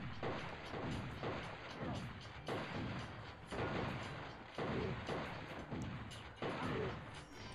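Sustained gunfire in the video game Turok: Evolution striking the player, a dense, loud barrage of overlapping shots and mechanical clatter rolling on without pause, with heavier bursts recurring roughly every second.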